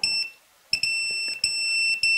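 A Mobula7 micro drone's low-battery alarm emits short, piercing electronic beeps indoors, a few sharp bursts with brief pauses between them, fairly close and alone with no talking.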